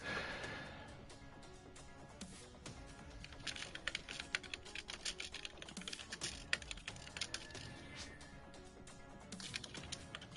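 Fast, continuous clatter of keys on a computer keyboard, close and fairly quiet, with irregular bursts of sharper clicks and no talking.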